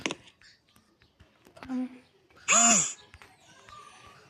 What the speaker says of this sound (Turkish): Esnedim.